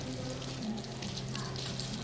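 Eggplant frying in a pan: a soft, steady crackling sizzle with faint popping runs continuously, fairly quiet and close, over a low background hum.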